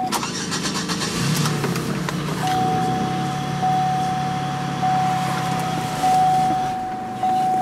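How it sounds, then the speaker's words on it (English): Chevy Express van engine with bad gas cranks and runs roughly, then drops out and stalls soon after the throttle is pressed; a steady warning chime sounds through the rest, loud and close. "As soon as I hit the gas, it stalled out."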